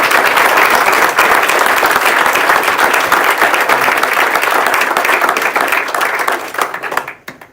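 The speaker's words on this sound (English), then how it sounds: "can we say a huge thank you and round of applause to our two debaters" Thunderous, steady applause fills a room as an audience thanks two debaters at a data-visualisation debate evening in London, many hands clapping densely before the sound trails off into quiet at the close.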